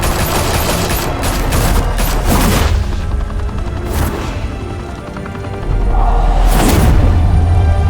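Heavy gunfire rattles through a shootout in the video game Batman: The Telltale Series: dense, overlapping volleys with booming impacts and crashes, loud and continuous across the whole stretch, swelling again near the end.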